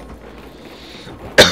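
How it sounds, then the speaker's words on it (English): A single sharp cough bursts out near the end, close and loud, after a low hum of game ambience during a Call of Duty: World at War Zombies session. "I coughed."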